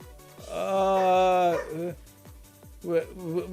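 A dog howls and whines close by in a long drawn-out cry, then gives a shorter howl near the end, all over a repeating rhythmic thumping in the background.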